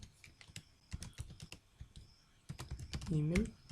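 Close, rapid computer keyboard typing with irregular clusters of key clicks while coding a Laravel authentication system, with a brief voice near the end.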